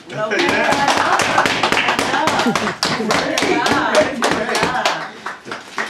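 People at a Thai-Kempo martial arts session clap for a student, the individual hand claps sharp and distinct in a quick, uneven rhythm, with voices talking over them.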